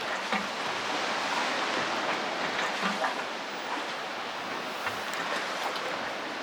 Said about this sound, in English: you'll be able to hear the waves breaking on the shore about 350 feet away.